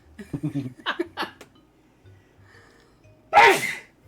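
One loud, sudden sneeze bursts out near the end after a few seconds of quieter voice sounds and pauses.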